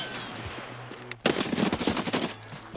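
SR-3M rifle fire in Escape from Tarkov: a few isolated shots, then a rapid burst of automatic fire after a brief pause, loud and close, with no talking.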